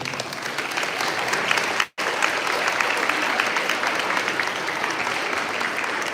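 Loud, dense applause from an elementary school audience at a Veterans Day assembly honoring a veteran, continuous for several seconds with one brief dropout near the start.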